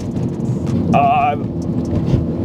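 A lowered, static Mazda 3 driving over a rough road, with a brief tonal squeal of tire rubbing that lasts about half a second over steady road rumble and cabin noise.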